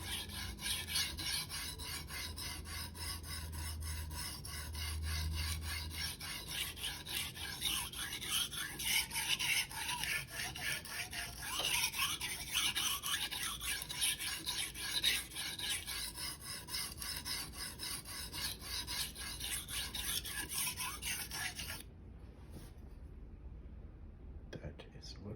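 A Shirogami 1 bunka knife scrapes back and forth on a Rika 5000 whetstone in a steady, close rasping rhythm, continuing for over twenty seconds before the strokes stop.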